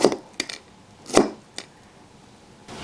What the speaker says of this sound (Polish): Na początku ziemniaki kroimy w tę stronę.